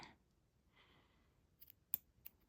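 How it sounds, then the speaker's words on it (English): Scissors snipping elastic cord for a stretch bracelet, a faint rustle of handling followed by one sharp close click of the blades and a smaller snip after it, quiet overall. "Then I'm going to take these scissors."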